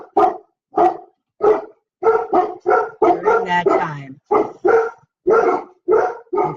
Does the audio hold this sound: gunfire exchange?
no